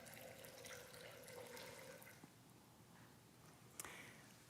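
Water trickling and splashing steadily as it is poured during a water ceremony at a Unitarian congregation gathering, a continuous faint running sound with a small clink near the end.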